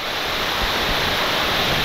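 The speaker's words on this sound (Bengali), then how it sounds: "top class Vamana Buddha waterfalls, দেখুন দেখুন, জল একটু কম লাগছে কিন্তু তবুও টপ ক্লাস" Forest waterfall in Goa with a somewhat low flow, heard as a steady, close broadband rush of falling water that holds evenly through the moment, with no voices.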